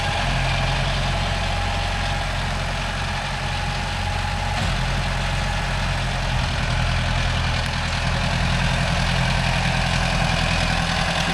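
A Mahindra Arjun Novo 605 DI tractor pulling a rotavator among coconut trees, its diesel engine droning steadily and loudly under load for the whole stretch, with no talk.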